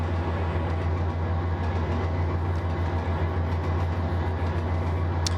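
A train rolls steadily along the Bakersfield to Mohave route in the Trainz 22 simulator, a continuous loud low rumble with faint rail clatter and no voices.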